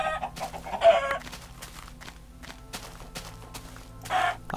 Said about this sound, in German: Die Hühner hole ich mir natürlich.